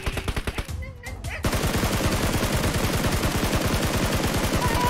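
Sustained automatic gunfire from PUBG Mobile, a rapid, even string of loud shots that starts after a brief quieter lead-in of scattered sounds and keeps hammering steadily to the end.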